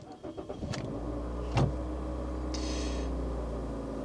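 An automatic Toyota Corolla starting up: a short burst of starter cranking, then the engine catches and settles into a steady low idle hum, close and alone.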